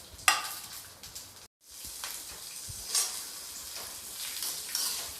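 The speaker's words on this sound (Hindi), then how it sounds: "मैंने लहसुन, अदरक और हरी मिर्च को भी 1 मिनट के लिए फ्राई कर लिया है।" Garlic, ginger and green chilies sizzling in hot oil in a pan, a close crackling fry with occasional stirring scrapes, a brief near-silent gap early on, then the sizzle resuming steadily.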